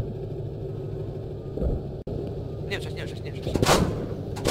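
Gunfire in a multiplayer shooter video game, a couple of sharp distant shots and a louder crackling burst toward the end, over mechanical clatter, with players talking.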